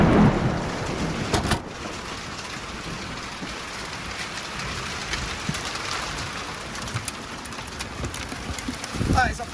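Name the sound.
thunderstorm with heavy rain pouring through a roof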